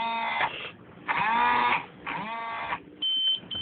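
Washing machine buzzer marking the end of a wash stage: a loud electronic tone sounds in three separate bursts of roughly half a second each, with a shorter final beep, close and clear over faint background noise.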